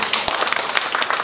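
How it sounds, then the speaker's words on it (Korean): Applause rises from a concert audience after a singer asks for it, with brief, close, scattered clapping. "박수 한번 주세요."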